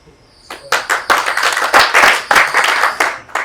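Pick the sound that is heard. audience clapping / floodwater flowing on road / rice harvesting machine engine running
audience clapping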